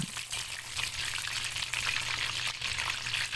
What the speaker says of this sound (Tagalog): maglagay tayo ng oil, tsaka i-fry na natin yung ating mga breaded na fish fillet